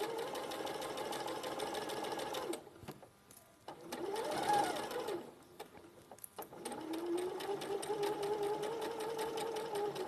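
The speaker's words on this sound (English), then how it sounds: "you still want to do some sewing" A sewing machine stitches in quick, even bursts nearby, running, pausing briefly, then starting again with a steady mechanical whirr.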